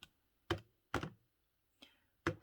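A calculator's keys are tapped four times in a row, each press a short, crisp, quiet click, separated by brief silent gaps with a slightly irregular rhythm.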